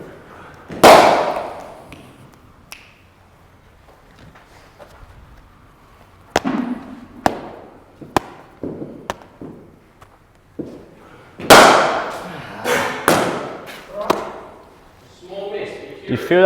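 Cricket bat striking balls during a net session: sharp, loud cracks scattered across the clip, some isolated and some in quick clusters, with footsteps and coaching voices between hits.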